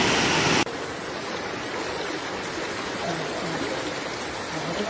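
Strong floodwater rushing at a hospital in Chaiyaphum province, Thailand, a loud, steady broadband roar of churning water that continues unbroken after a brief louder hiss at the start.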